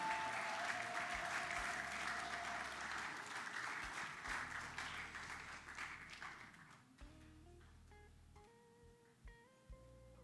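A church crowd at a pastors' ordination conference applauds loudly and steadily for several seconds, then the clapping fades out as soft instrumental music carries on.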